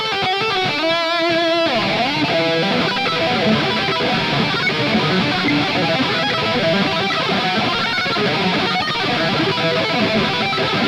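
Electric guitar run through Bias FX 2 Pro amp software with distortion and delay, a dense sustained wall of saturated, echoing tone playing continuously and loud without any talking.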